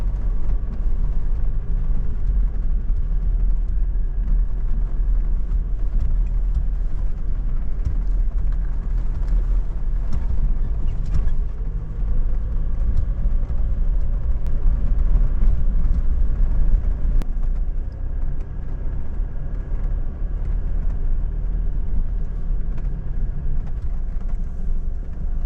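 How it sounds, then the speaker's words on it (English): A four-wheel-drive vehicle crawls through ruts on a serpentine dirt track, its engine a steady low rumble with shifting strain as it climbs in and out, continuous and close throughout. "So when you're driving in the ruts and then driving out of them."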